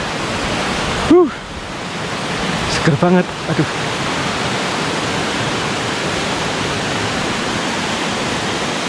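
Steady broadband rush of the Jumog waterfall in Karanganyar fills the whole clip, with a voice briefly speaking over it near the start.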